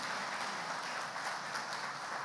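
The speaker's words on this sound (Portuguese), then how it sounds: "Só os que creem e recebem, dêem um aplauso bem forte ao Messias." An audience claps during a church service, a steady, dense wash of applause that holds evenly throughout with no voices over it.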